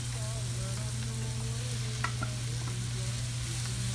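Baby Bella mushrooms fry in a hot pan, giving a steady close sizzle with occasional stirring scrapes and small pops, with no voices.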